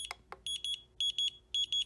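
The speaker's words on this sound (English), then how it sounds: "double beep, so it is in the D16 protocol" Two sharp clicks, then three paired electronic beeps repeating at a steady pace, clear and close, from a Radiomaster T8 Lite radio controller binding in D16 protocol.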